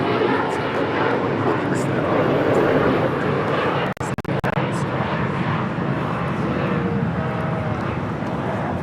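Broadband jet roar from an airliner taking off at LAX, a steady loud rumble that holds throughout with only a brief dropout midway.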